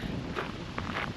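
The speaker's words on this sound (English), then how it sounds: "it's got quite windy" Cold wind blows on an afternoon turning stormy after a heat wave. It comes through as a continuous low rumble of gusts buffeting the microphone, with brief rustles on top and no voices.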